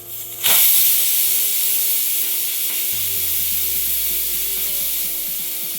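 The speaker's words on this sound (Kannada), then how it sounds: "ಈಗ ಕುಕ್ಕರ್ ಲಿಡ್ ಕ್ಲೋಸ್ ಮಾಡಿ 3 ರಿಂದ 4 ವಿಸಿಲ್ ಹಾಕ್ಸ್ಕೊಳ್ಳಿ" A pressure cooker cooking baby khichdi vents steam with a loud, steady hiss, joined after a few seconds by a pulsing, rattling whistle that keeps going.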